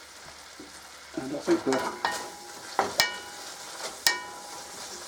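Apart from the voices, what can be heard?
bacon frying in a pan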